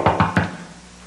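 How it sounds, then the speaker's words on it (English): Three quick, firm knocks rap on a door, evenly spaced and close by, followed by quiet room tone. "I know that knock."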